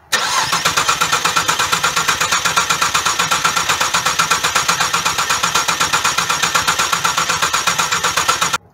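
A Cadillac 2.8/3.6 V6 with a multiple-cylinder misfire and a faulty ignition coil pack cranks continuously, a loud, rapid, even rhythmic whirring of the starter for about eight seconds, close and without speech, then stops.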